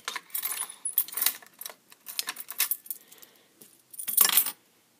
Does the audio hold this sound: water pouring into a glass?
no